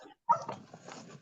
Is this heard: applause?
no